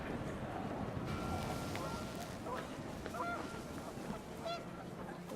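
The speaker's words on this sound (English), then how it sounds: "The wind picked up, and panicked geese appeared and quickly went." Panicked geese honk in a brief, busy flurry in What Remains of Edith Finch, their calls scattered over a steady gusting wind; a voice murmurs faintly underneath.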